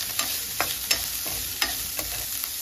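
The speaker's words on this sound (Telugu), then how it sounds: "ఆనియన్స్ అన్నీ ఒక 1 మినిట్ ఇలాగే ఆయిల్లో ఫ్రై చేసుకోండి." Onions fry in oil in a kadai with a steady sizzle, while a spatula scrapes and taps the pan about every half second, close and without talk.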